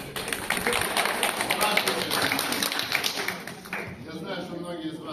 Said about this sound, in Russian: И, пожалуйста, только под громкие аплодисменты.